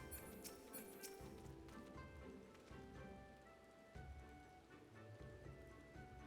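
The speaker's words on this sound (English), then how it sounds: "Why is it always raining?" Rain falling in Final Fantasy XIV, a steady, close patter of drops on surfaces that keeps going through the whole stretch, with faint chiming game sounds layered over it.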